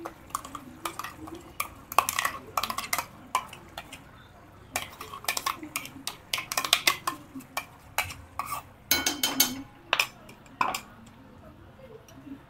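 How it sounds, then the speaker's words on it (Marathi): Masala for a Mangalorean prawn ghee roast being roasted in ghee, a spoon scraping and clinking against the pan in irregular bursts over a faint sizzle, close up, with an occasional throat clear. "या मसाला आपल्याला नीट भाजून घ्यायचा आहे"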